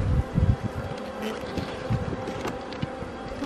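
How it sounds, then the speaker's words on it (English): Honeybees buzz in a soft, wavering drone close by during a spring hive check, with light bumps and handling noise; no one speaks. "Hey, buzzy bees."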